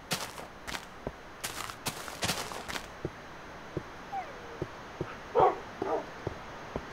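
A dog in the video game Minecraft barks a few times, short sharp yips and a whimper spaced across the stretch over faint clicking game sounds and background hiss.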